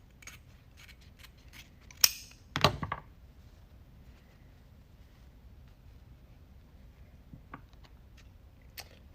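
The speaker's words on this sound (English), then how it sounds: "So we're just cutting at the angle and hoping that it works out." Scissors snip through red plaid ribbon for a wreath with a couple of sharp, close cuts standing out against a quiet, low background hum.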